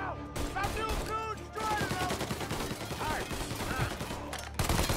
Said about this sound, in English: Did you hear the bullet hitting the metal?